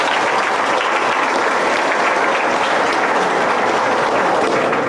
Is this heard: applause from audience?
yes